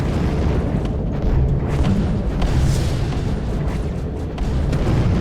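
Missile explosions in the Space Commander video game come as a dense, continuous barrage of deep booms and rumbling blasts, loud and unbroken throughout, with no talking.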